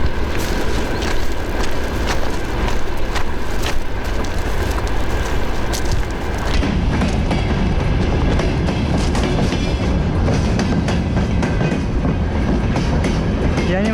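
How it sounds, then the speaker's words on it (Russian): An oncoming freight train rolls through a Russian rail yard, loud and close, with continuous heavy rumble and rhythmic clickety-clack of wagons over rail joints that grows denser partway through, with no talk. "Видишь, как раз оттуда едет поезд встречный."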